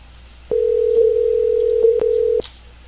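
Steady telephone tone over a loud speakerphone, a single sustained beep lasting about two seconds with faint clicks, fairly close and alone.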